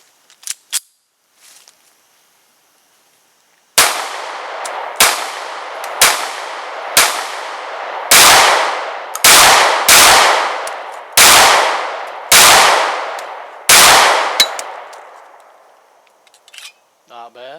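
Para-Ordnance P-12 pistol fired outdoors: nine loud, sharp shots in a steady run, each with a brief ringing decay, after a few faint clicks and handling sounds at the start.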